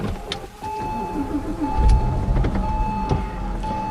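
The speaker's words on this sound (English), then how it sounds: "There you hear a startup of the car itself" A Porsche Boxster (986) engine cranks and starts up nearby, with a low rumble settling into a steady idle alongside faint electronic chimes.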